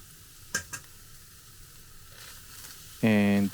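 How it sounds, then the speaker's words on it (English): Ground pork frying in a pan as chopped onion and ginger are added, a low sizzle with a couple of sharp utensil clacks, then a short, loud, tonal burst near the end. "Now I add chopped onion, and add ginger,"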